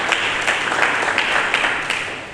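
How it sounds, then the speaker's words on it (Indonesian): A church congregation applauds during a Sunday service, a steady wash of clapping with a few louder individual claps standing out, fairly close and fading slightly toward the end, with no talking. "Berikan tepuk tangan bagi Yesus Kristus."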